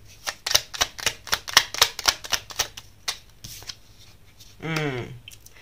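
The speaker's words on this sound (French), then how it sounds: "On va clarifier un peu les cartes avec le tarot." Tarot cards being shuffled close by, a quick run of crisp riffling slaps that slows and thins out, followed by a brief spoken voice.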